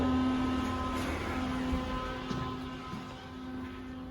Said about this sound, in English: That fan is really annoying.